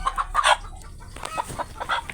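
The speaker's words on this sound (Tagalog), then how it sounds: "grabing dako ang tingog ning manok" Backyard chickens calling loudly close by, a series of sharp clucks and squawks in quick bursts with brief pauses between them.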